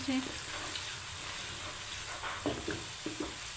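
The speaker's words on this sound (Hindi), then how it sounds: "अब इसमें कीमा ऐड कर दें, उसे अच्छे से मिक्स कर दें, उसका कलर चेंज होने तक उसे मिक्स करते रहें।" Minced meat sizzles steadily in a hot pan while a spoon stirs it, with occasional light scraping and clinks over a constant close frying hiss.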